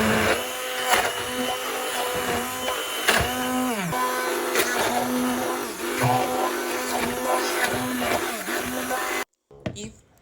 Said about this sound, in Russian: Еще раз взбиваю все тщательно.